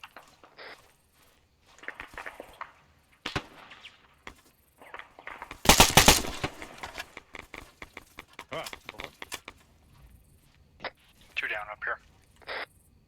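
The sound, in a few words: gunfire during military live-fire training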